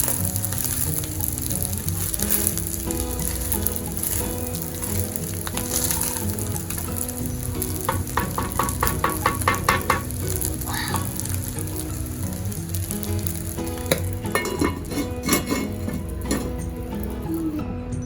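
Palm oil sizzles and crackles steadily in a pan while food is stirred for jollof rice, with occasional scraping and bursts of spattering.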